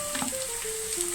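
Small chopped onions sizzling steadily in a pan as they are stirred, a soft, even frying hiss with faint scraping and no talk.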